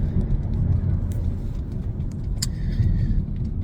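A car's interior carries a steady low road and engine rumble throughout, with occasional small clicks and rattles above it.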